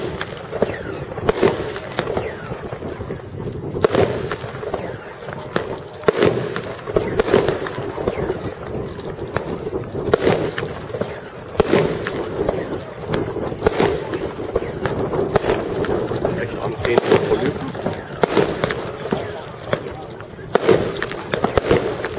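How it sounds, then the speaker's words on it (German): A New Year's fireworks box, JW 107 firing 19 shots of 25 mm, pops off in a steady series of sharp reports at an outdoor pyrotechnics demonstration, bursts ringing out at regular intervals over crowd noise. "Jetzt kommt wieder ein Box vom Silvesterfeuerwerk."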